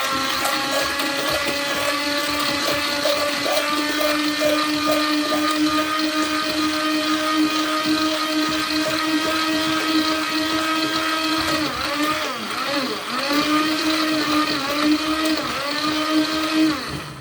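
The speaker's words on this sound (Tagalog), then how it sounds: "Okay, at, ayan, mag-blender tayo." A blender whirs loudly and continuously for about seventeen seconds, mixing a banana and strawberry jam cake batter with melted butter, its motor pitch dipping briefly as the load shifts near the end.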